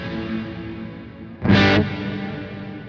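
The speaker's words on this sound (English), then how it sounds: "And this is a really large reverb." A sustained, distorted guitar tone through a Kemper Profiler with a large reverb, 3.7-second decay, swelling briefly into a brighter struck chord that lingers and fades into the ambience.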